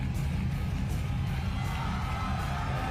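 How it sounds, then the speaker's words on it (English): A wrestling crowd cheers for a wrestler, a steady, loud wash of arena cheering and yelling that sustains without a break. "And the crowd, who once almost booed him out of this building, cheer for him tonight"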